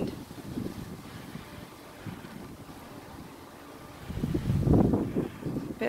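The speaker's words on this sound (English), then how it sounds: "All right, wind." Gusty wind buffets the microphone along an outdoor garden trail in September. It makes low rumbling blasts that surge strongly near the end, close and loud, with no talking.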